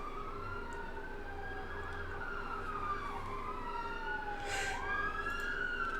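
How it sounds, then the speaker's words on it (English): Emergency sirens wail down a city street, rising and falling tones sweeping over a low traffic rumble, moderately distant and faint. "5th time there's cop sirens going down the street. Or an ambulance."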